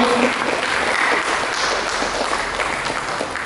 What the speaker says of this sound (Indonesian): Mari kita berikan tepuk tangan bagi